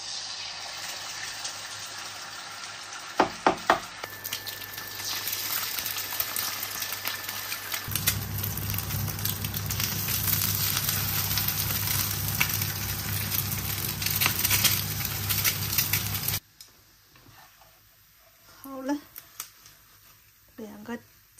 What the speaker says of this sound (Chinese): 面煮好了，我再煎两个鸡蛋。